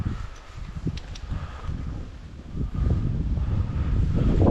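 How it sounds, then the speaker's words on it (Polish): Strong wind buffets the microphone in loud, rumbling gusts that build toward the end, with faint rustling underneath. "O, ale wiatr, wiatr wieje strasznie."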